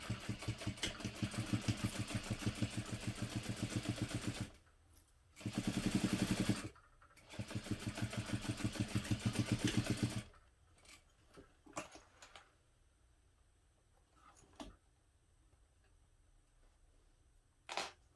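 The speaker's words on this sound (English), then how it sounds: "I'm going to just top stitch that closed" A sewing machine top stitches a fabric clutch closed along its bottom opening, running in two steady bursts of rapid mechanical stitching, followed by quieter handling noises and a few sharp clicks.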